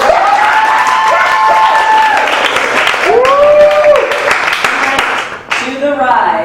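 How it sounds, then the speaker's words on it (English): Comedy show audience clapping and cheering in a crowd, loud and continuous, mixed with whoops and voices throughout. "I need a bigger applause."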